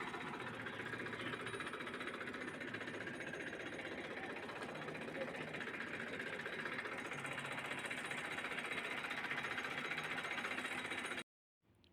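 A tractor engine runs while pulling a sprayer through a cumin field. It makes a steady, close, buzzing drone for about eleven seconds, then stops abruptly.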